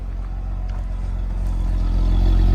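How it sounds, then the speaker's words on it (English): A right-hand-drive 2018 Jeep Wrangler idles and runs with a deep, steady exhaust rumble that builds slightly louder toward the end, close by and heard alone without talk. "I'll just let you listen to how it runs."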